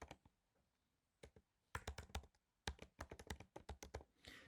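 Typing on a computer keyboard, quiet clicky keystrokes in short bursts separated by pauses, some rapid runs of taps, close and fairly faint.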